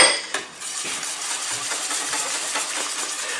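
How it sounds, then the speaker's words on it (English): A whisk scraping and clattering steadily in a bowl as eggs and flour are beaten into a thick paste for mini Yorkshire puddings, a continuous close, busy metallic rasp with no pauses. "Just keep whisking."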